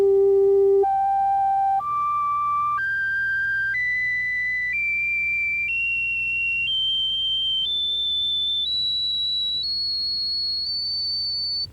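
A series of pure sine-like tones stepping upward one by one, each overtone pitch above middle G held about a second, clear and steady with no talk.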